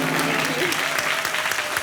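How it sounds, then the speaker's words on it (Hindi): Studio audience on the KBC quiz show stage breaks into sustained applause, a dense steady clatter of many hands clapping throughout, loud and continuous with no break. "तालियां बज जाएं जोड़ीदार के लिए"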